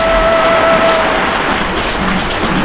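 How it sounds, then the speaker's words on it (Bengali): Heavy rain pours steadily, a dense, loud hiss of drops hitting surfaces that never lets up, with no voices. "মা, বৃষ্টি তো কোনো মতেই থামতেছে না"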